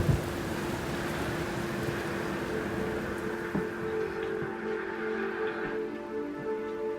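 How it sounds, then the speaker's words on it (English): Rain falls steadily on a rainy day, a continuous dense patter with a low hum underneath that stays even throughout. "Wow, it's rainy."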